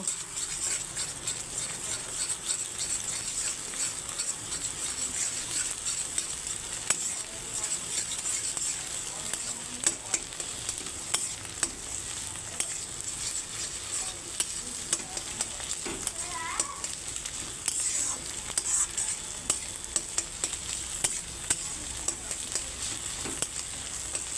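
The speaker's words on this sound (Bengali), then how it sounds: "আমি এখন ডিমের ঝুড়ো করে নিচ্ছি পাস্তাতে দেওয়ার জন্য।" A steady, close sizzle of eggs being scrambled in a frying pan, with soft scraping and stirring sounds running through it.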